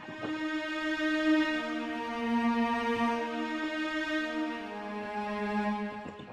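Sustained string pad from the Strings 2 preset in Flex within FL Studio, a smooth layered chord of bright harmonic tones that shifts once midway, playing alone at steady loudness.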